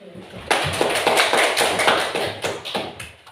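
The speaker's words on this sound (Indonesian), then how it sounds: "Ya, tepuk tangan." Classroom applause from a group of students, a steady burst of many hands clapping close by, dense and lively for several seconds with uneven peaks.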